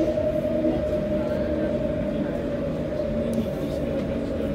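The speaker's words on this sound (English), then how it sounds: "For your safety, please hold on at all times while the tram is moving." Adelaide Metro 200 Series tram running through Adelaide city centre, giving a steady, loud low rumble and hum of motors and wheels on rail with faint rattles, continuous throughout with no talk.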